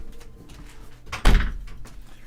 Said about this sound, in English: Oh, I should close my door.